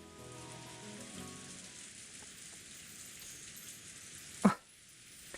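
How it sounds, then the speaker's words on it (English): Wind and rain sound effect from the Umineko visual novel, a faint steady patter of rain with a soft hiss, then a single sharp louder thud near the end. "The wind and rain were strong"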